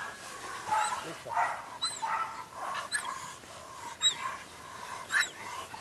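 An aggressive guard dog barks repeatedly during protection training, sharp barks and whimpers coming in irregular bursts at moderate distance over an outdoor background.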